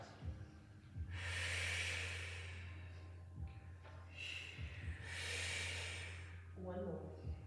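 A Pilates exerciser takes forceful breaths, loud airy exhalations and sharp inhales in a slow rhythm, about three breaths in all, close up over a low steady hum.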